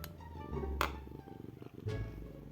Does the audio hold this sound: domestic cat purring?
yes